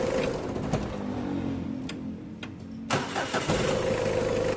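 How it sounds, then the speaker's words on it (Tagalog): A second-hand Mitsubishi Adventure engine that had overheated and misfired is switched off, then cranks briefly and starts in one click, settling into a steady idle close by. "Pa-switch off ko itong makina mga boss tapos papa-start ko rin yan."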